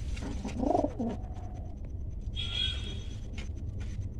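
A male pigeon in a loft gives one short, throaty coo near the start, followed by quieter loft background with faint higher chirps.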